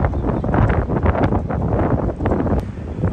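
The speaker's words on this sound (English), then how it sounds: "It's really windy." Gusty wind buffets the microphone in heavy, rumbling bursts outdoors by a shed, loud and close, with nothing else audible through the roar.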